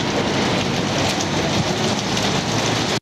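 Hot water gushes from a burst heating pipe in an apartment building, a loud, steady rushing roar of falling and splashing water filling the space without pause.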